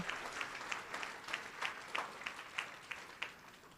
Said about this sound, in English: give yourselves a round of applause for all the great work that you do